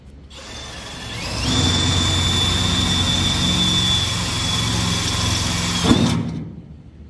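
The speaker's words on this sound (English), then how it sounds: "going to drill the holes so we can try to get it on" A power drill drilling holes in a Yamaha golf cart whirs steadily for several seconds, loud and close, with a high whine, then spins down and stops.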